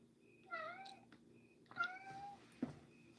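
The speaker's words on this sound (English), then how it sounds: "take care of the talking cat" A house cat meows twice in clear, rising-falling calls a short distance away, followed by a brief thump, over a low steady hum.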